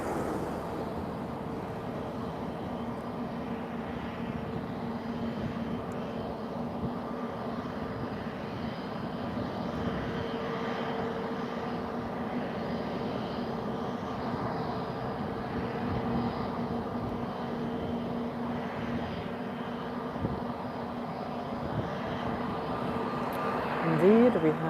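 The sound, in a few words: TAP Air Portugal Airbus airliner landing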